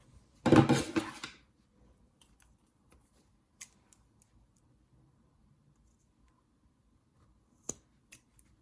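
Scissors snipping through crochet yarn while assembling a crocheted toy bear: one close, brief burst of cutting near the start, then near silence with a few faint small clicks.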